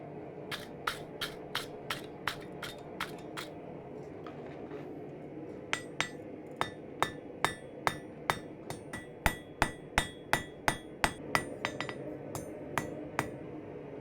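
Hammer blows ring out on a hot metal bottle opener stem being forged round at the anvil, a long run of sharp, evenly spaced metallic strikes, close and loud, with a short pause before the rhythm resumes and quickens.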